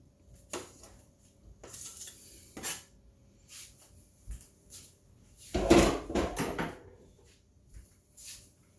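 Food being scraped from a roughly 10x14 baking dish of stuffed chicken, with a scattering of short scrapes and clinks and a louder, denser scraping burst near the middle.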